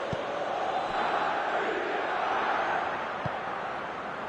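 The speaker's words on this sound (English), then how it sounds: "Well, the crowd clearly like what they just saw." Broad roar of a football stadium crowd reacting to a defensive play, a sustained wash of distant voices with a couple of low thumps, a commentator faintly audible.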